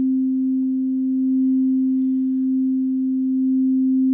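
An Empyrean crystal singing bowl tuned to C rings with one pure, steady tone that sustains loudly and evenly throughout, with a faint overtone above it and nothing else heard.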